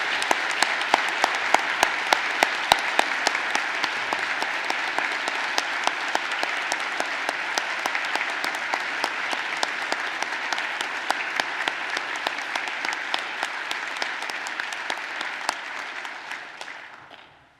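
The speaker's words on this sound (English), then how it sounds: "let's have a robust round of applause for all the awardees" Sustained audience applause for awardees at a Geological Society of America awards ceremony, dense hall-wide clapping holding steady for over fifteen seconds before fading out at the end.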